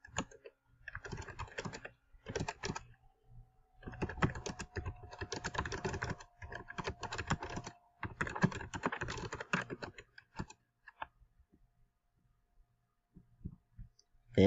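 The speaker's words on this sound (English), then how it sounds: "Then I will type instructions here for my students" Typing on a computer keyboard comes in several quick bursts of clicks separated by short pauses, close and fairly quiet, then fading to sparse taps near the end.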